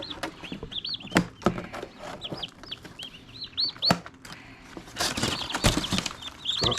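Young Bourbon Red turkey poults in a portable brooder peep in a steady scatter of thin, high chirps, close by amid shuffling, tapping and rustling handling noises.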